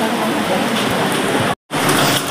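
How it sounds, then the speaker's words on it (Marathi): Heavy rain pours at a crowded temple in Admapur, a loud steady hiss of downpour that cuts out briefly near the end before resuming. "पाऊस पण आलेला आहे जोरात."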